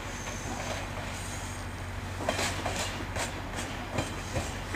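A Via Rail Chaleur passenger train rolls through a station, with a steady rumble and rhythmic wheel clicks over rail joints, a few sharper clacks standing out mid-distance.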